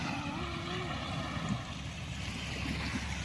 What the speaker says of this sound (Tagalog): Makalalaki yung alon.